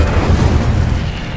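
A loud, sustained booming blast from the Incendio fire spell in the Hogwarts Legacy video game, a dense roaring burst lasting over a second.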